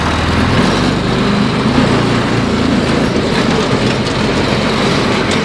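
A Kawasaki KAF450 Mule utility vehicle with a converted drive train, put in gear and driving off, gives a loud, steady mechanical engine drone with rattling close to the listener, no voices over it.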